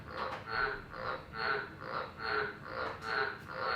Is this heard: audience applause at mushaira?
no